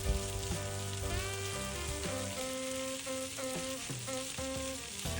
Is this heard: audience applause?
no